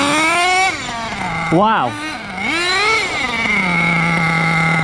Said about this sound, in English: Look at that idle.